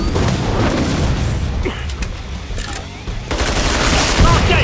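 Gunfire and booming blasts in Call of Duty Zombies, a loud, chaotic barrage of shots and explosions that dips briefly in the middle before surging again, with voices mixed in.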